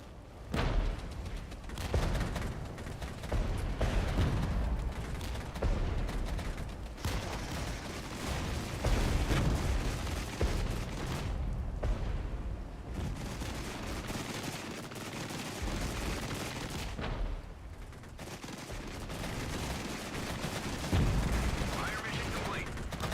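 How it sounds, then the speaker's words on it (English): Artillery fire in the Regiments video game, a continuous heavy barrage of booms and crackling gunfire that rumbles steadily throughout, with someone talking over it. "More artillery over that way as well."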